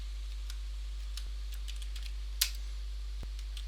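Sparse, faint keystrokes on a computer keyboard as words are typed into a word list: a handful of light clicks spread out with pauses, one slightly sharper tap near the middle, no voices.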